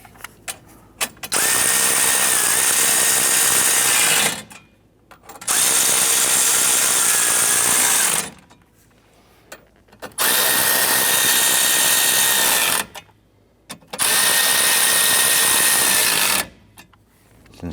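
Power tool on a 2008-2013 Nissan Rogue during blower motor module replacement, snugging down two mounting bolts in four loud, steady whirring bursts of about three seconds each, separated by short pauses.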